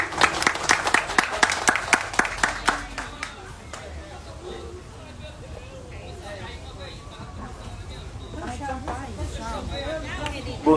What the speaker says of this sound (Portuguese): Vamos receber ele com uma salva de palmas aí.